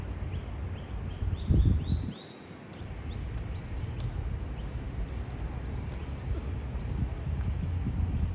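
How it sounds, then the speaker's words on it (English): A flock of birds chirps continuously in an outdoor setting, a busy overlapping chorus of high tweets with a brief low thump partway through and steady ambient noise underneath. "A lot of birds."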